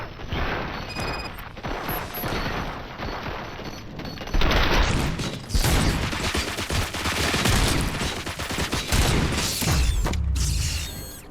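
Sustained gunfire in the video game Robocop: Rogue City, dense rapid bursts of shots with mechanical clanks and rattles, loud and continuous over the whole stretch.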